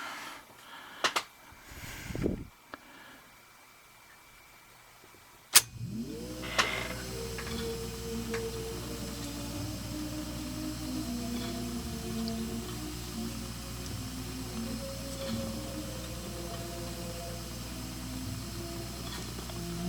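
The right channel of a Sony TC-252 D stereo tape deck plays faintly through a bench amp turned all the way up, a low steady hum and hiss after a few handling clicks and a sharp snap.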